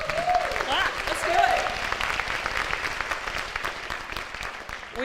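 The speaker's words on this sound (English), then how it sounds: "Go ahead, clap." Audience applause at a high school homecoming revue, a steady wash of clapping from a large crowd that carries on for several seconds at moderate level.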